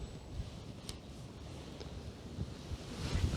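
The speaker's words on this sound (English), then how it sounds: "This wind's going to be an issue." A steady, rumbling wind blows across a fishing lake bank, buffeting the microphone with low gusts that swell slightly toward the end, with no voices.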